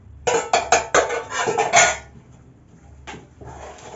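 Cake batter for a carrot cake being mixed in a bowl, with a run of sharp utensil knocks and scrapes against the bowl, then a pause and a few softer clinks.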